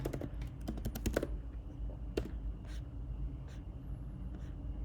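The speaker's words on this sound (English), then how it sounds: "And I type my email." Close, crisp keystrokes on a computer keyboard while entering an email address: a quick burst of clicks at the start, then a few isolated taps over a steady low background hum.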